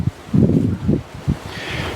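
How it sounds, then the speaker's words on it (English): Strong side wind by a lake, buffeting the microphone in low, rough gusts that swell and drop several times over two seconds, with no talking. "So like I said, we've got a real big side wind."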